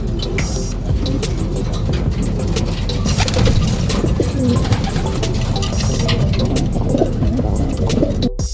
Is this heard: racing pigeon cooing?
yes